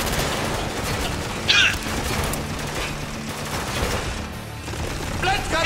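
Mounted machine gun on a Humvee firing during a desert firefight in Spec Ops: The Line, continuous rattling bursts with distant booms and mechanical clatter, mixed with game voices.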